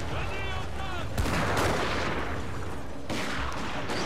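Massed musket fire rolls out in a volley during a Shogun 2 Total War battle set at Toba-Fushimi in 1868, dense overlapping cracks and booms spreading into rumble, with voices calling out early on.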